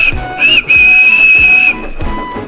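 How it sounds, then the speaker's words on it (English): A steam locomotive whistle blows loud and sustained, dropping out briefly, over rhythmic low chuffing from the engine. "James whistled at them, but they paid no attention."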